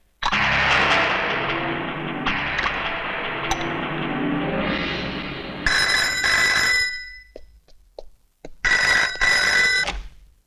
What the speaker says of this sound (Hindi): कमिश्नर साहब, आपका फोन।